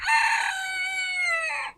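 A rooster crowing once, close and clear, in a drawn-out call lasting under two seconds on a homestead with chickens.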